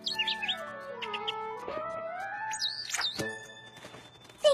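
Cartoon bird chirping in an animated film, a run of bright, rapid tweets and warbling whistled calls sliding up and down in pitch, close and clear over a quiet background, with a short sharp thunk at the end.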